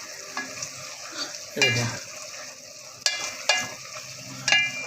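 Garlic sizzles with golden fried onions in a pan for chicken white qorma under a steady hiss, with a few loud spoon scrapes and stirring knocks. A voice speaks briefly.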